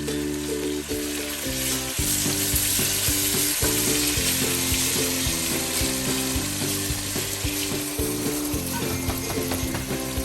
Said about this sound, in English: So we're gonna leave this to fry inside the pot.